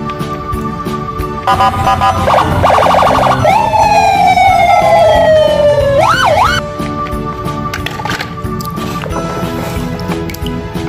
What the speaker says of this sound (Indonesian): ada mobil polisi.